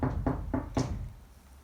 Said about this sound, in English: Shortly after she left, there was a knocking at the door.